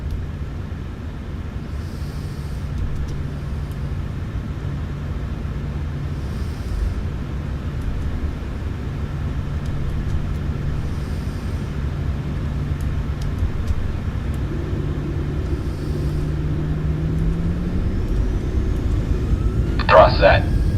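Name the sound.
airplane engines spooling up for takeoff on runway 32 left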